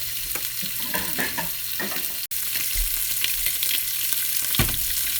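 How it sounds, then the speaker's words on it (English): Food sizzles while frying in a pan on low heat for a homemade jambalaya, a steady close crackling hiss broken by a few soft stirring and clattering knocks. "while this is sizzling up"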